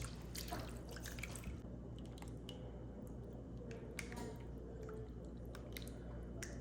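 Water is poured into a pan of pasta with tomato juice while making food for a baby; soft dripping and splashing sit close by over a constant low hum, with no talking.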